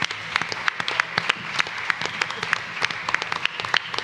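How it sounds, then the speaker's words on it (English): Audience applause at a reggae book launch at Reggae University 2022, a dense, even round of clapping from a crowd, close and sustained throughout. "give him a round of applause."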